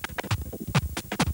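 Roland MC-09 groovebox slicer effect chopping a sound into rapid rhythmic stuttering bursts, choppy gated pulses at a quick even pace, close and loud, with no talk.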